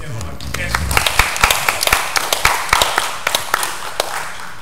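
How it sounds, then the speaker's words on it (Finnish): An audience claps after a panel discussion on the rainbow community and the working class, with light, scattered, uneven applause and voices heard through it. "Annetaan aplodit hienolle"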